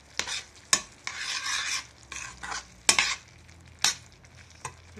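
Vegetable broth being stirred into a wet beef fry in a pot, with close spoon scrapes and clinks against the metal over a soft sizzle, in several distinct strokes and no talk.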